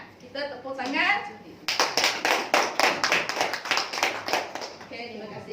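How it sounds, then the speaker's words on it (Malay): Audience claps at a Malay-language business conference, a burst of sharp, evenly paced hand claps that starts after a brief stretch of talk and carries on for several seconds before fading. "Kita tepuk tangan"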